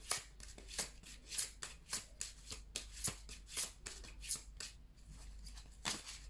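A deck of oracle cards is shuffled by hand for a card reading, a quiet run of crisp, evenly spaced riffling snaps and swishes repeating about twice per second.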